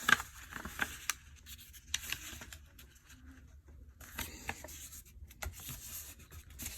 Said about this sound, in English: So I'm going to fold it.